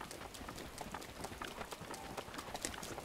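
Horse galloping in Zelda Breath of the Wild, faint rapid hoofbeats pattering in a quick steady rhythm over a soft background hiss.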